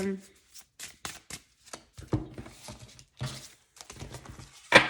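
Tarot cards being shuffled by hand in quick irregular bursts of riffling and patting, close and moderately loud.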